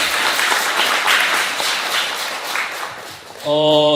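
An audience at a poetry book concert breaks into steady applause that fades somewhat. A voice mixes in, and a sustained tonal sound enters at the end.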